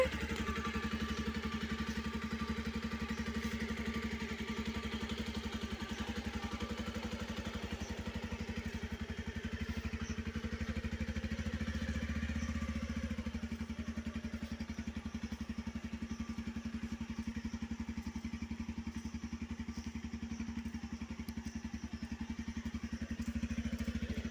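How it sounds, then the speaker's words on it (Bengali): A motorbike engine runs steadily nearby, a low continuous drone that shifts slightly in pitch partway through. "বাইক চালাচ্ছে।"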